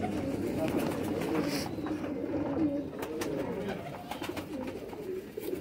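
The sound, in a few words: Patiala pigeons cooing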